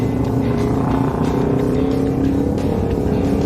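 A group of twelve motorcycles rides together on a touring trip back to Makassar, their engines forming a steady, continuous road drone with rushing wind noise.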